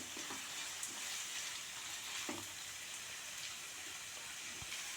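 Leftover chapati pieces and vegetables frying in a pan on high flame, a dense steady sizzle close by with a few soft scrapes from stirring, no voices.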